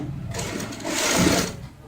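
A sewing machine stitches baby cap pieces together, its motor running in one short, continuous burst that swells and then eases off.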